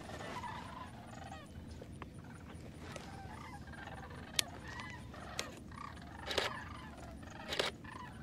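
A group of sandhill cranes on Paynes Prairie calls from a distance as they take flight, with faint, scattered rattling cries and a couple of louder bursts near the end over soft outdoor background.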